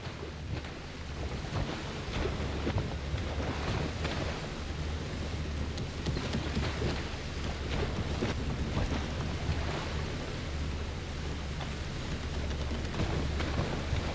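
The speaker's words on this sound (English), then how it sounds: "Okay, back to sailing." Sailing boat crossing open water in the video game Horizon Forbidden West, with a steady wash of wind and rushing water and a low rumble running throughout.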